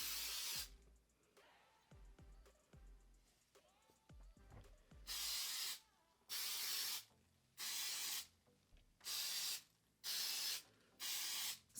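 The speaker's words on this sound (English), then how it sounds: "This is the root lifting spray," Kenra root lifting spray mists onto hair roots in six evenly spaced, close hissing bursts, each about a second long, after a stretch of quieter handling clicks and rustles.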